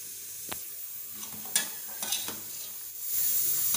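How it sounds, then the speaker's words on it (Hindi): Coarsely ground fox nuts (makhana) added to boiling milk for kheer and stirred, with a few sharp scraping and stirring knocks against the pot over a soft bubbling, sizzling bed. "अब मैं इसमें डालूंगी अपने पिसे हुए मखाने।"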